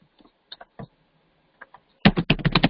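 Keys clack on a computer keyboard as code is typed: a few scattered isolated taps, then a quick close burst of rapid keystrokes, crisp and near.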